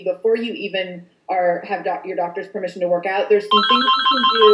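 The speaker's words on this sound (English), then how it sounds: "I thought that was my phone." A phone ringtone chimes near the end with bright, sustained tones, rising over ongoing talk that continues underneath without a break.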